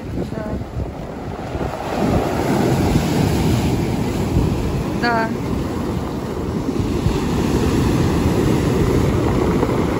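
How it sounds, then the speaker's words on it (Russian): Stormy sea on the Volkonka shore: a steady, loud roar of pounding surf and gusting wind buffeting the microphone, with one brief spoken word near the start. "Очень сильно штормит, конечно."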